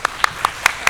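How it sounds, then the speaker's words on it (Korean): A few separate hand claps at a Korean academic conference session, five sharp distinct claps in an even rhythm, close and fairly loud. "박수 한번 쳐주십시오."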